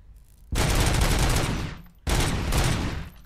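Automatic gunfire in the video game RoboCop: Rogue City comes as two loud, sustained bursts, each over a second long, separated by a brief pause.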